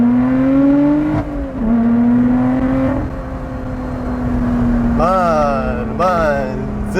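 A Lotus Exige 410 sports car engine drones steadily while driving, holding a loud, even tone with brief revs rising at the end.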